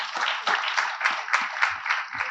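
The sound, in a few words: audience applause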